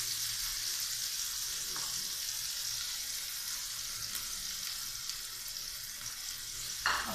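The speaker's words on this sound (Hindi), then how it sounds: "और अब इसमें टमाटर डालते हैं और ऑल स्पाइसेस डाल देते हैं इसमें" Tomatoes and spices fry in hot oil for an onion and egg dish, giving a steady broadband sizzle throughout with a faint clink near the end.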